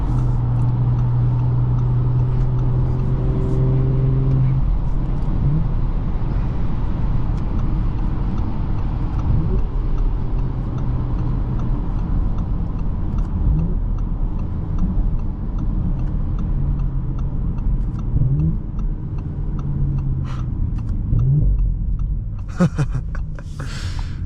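A 2024 Audi S5 Sportback with the 3.0T engine cruising, heard from inside as a steady low road and engine rumble with light tire hum, constant throughout with a brief rustle near the end.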